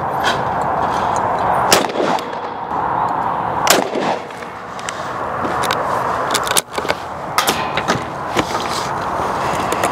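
Shotgun blasts ring out at a clay shooting session, several sharp loud reports spaced a couple of seconds apart, close by with an outdoor echo, and no voices between them.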